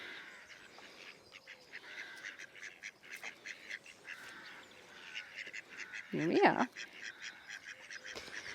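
Ducks quack and honk repeatedly while being fed bread outdoors, with a loud burst of calls close by near the end and a person speaking briefly.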